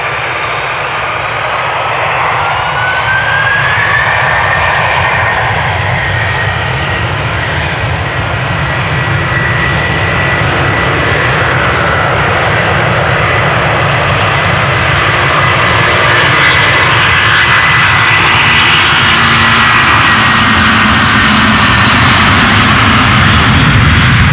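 A Delta Air Lines Airbus A330-300 on flight 133 to Detroit departs from the Polderbaan runway at Amsterdam Schiphol with a loud, sustained jet-engine roar that builds and stays strong to the end.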